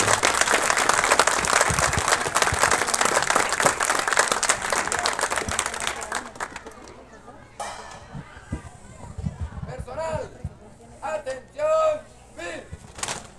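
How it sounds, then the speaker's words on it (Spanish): Strong applause rises from a ceremony audience for six seconds, then stops, leaving birds chirping and scattered voices talking in the background. "un fuerte aplauso para ustedes por el trabajo que han venido desarrollando"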